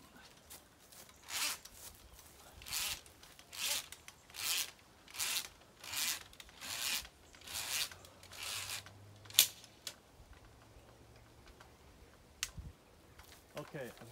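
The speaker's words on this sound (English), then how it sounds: "as you can see, I'm just scoring underneath here. Just cutting that bark." An ARS pole saw cuts into a tree branch with a steady run of rasping strokes, about ten rhythmic pulls spaced roughly a second apart, close and fairly quiet, then a few scattered knocks.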